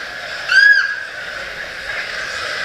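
A bird at a zoo animal show gives one short, loud, sharp call that stands out over a background of crowd murmur.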